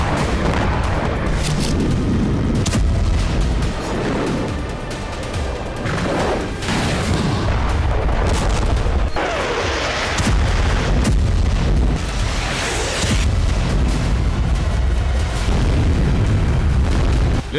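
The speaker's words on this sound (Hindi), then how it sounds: "यूक्रेन पर बमबारी भी नहीं रुकी।" Heavy bombing in Ukraine: loud, continuous rumbling booms and crashing blasts of explosions and artillery-like fire that overlap and recur throughout, with no voices.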